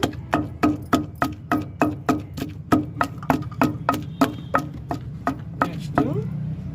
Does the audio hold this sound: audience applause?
no